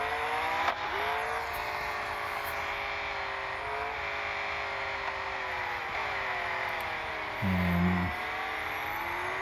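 Racing cars in a video game, including a Valkyrie and a LaFerrari, give a steady, loud engine drone with shifting revs and a brief rising whine near the end, continuous and without pauses.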